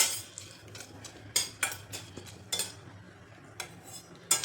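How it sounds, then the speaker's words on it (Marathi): Pumpkin seeds being dry-roasted in a pan on medium flame, heard as intermittent scraping and clinking of a utensil against the pan, a few sharp strokes spaced irregularly over a quiet background. "पंपकिन बी जे आहे ते भाजून घ्यायचं आहे आपल्याला मिडियम फ्लेमवरतीच हलकंसं भाजायचं"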